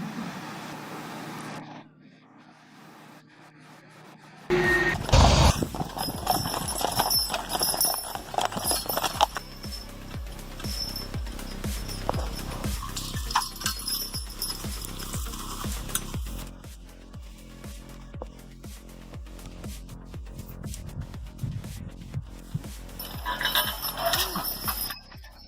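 Horses working in deep snow clip-clop in a steady rhythm, with a vehicle and background activity underneath and voices talking at times.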